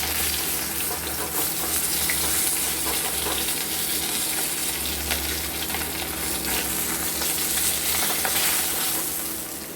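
Katla fish sizzling in hot oil in a home kitchen, a continuous crackling fry with some stirring and watery hiss. The sizzle is steady and close throughout, with no talking.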